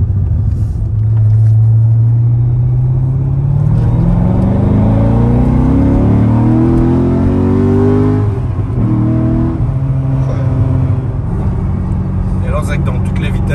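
A red Corvette Z06 with a 7-litre V8 of over 500 hp accelerates hard, its deep engine note climbing steadily in pitch through several seconds before easing and rising again, loud and close, with people talking over it.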